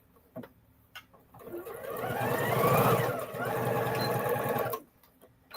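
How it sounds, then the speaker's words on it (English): A sewing machine stitches two pieces of fabric together in one steady, rapid mechanical run of a few seconds. Quiet moments with faint handling noises come before and after. "Just take two of the ones that you've already used and sew them together."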